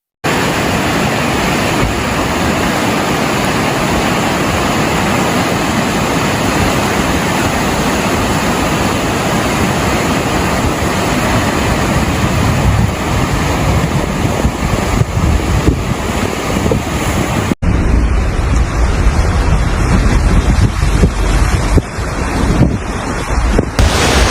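Floodwater rushing across a paved stretch of Highway 11 on Oahu or Maui during flash flooding, a steady loud broadband roar with heavy wind buffeting on a microphone tucked inside a shirt; the texture shifts partway through but the wash continues throughout.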